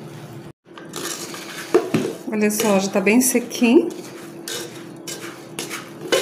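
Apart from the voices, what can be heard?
stirring sugared peanuts in a hot pan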